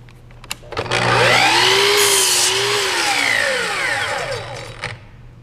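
Laser-guided power saw cutting through a clamped wood board, a sharp motor whine that rises as the blade spins up, holds loud through the cut for about three seconds, then winds down.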